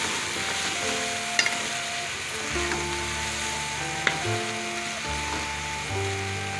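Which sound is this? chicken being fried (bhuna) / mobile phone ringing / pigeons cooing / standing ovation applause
chicken being fried (bhuna)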